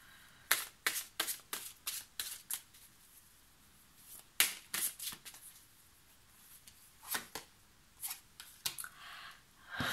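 Crisp, sharp card flicks and snaps in short bursts with gaps between, close and quiet, like a deck being shuffled by hand.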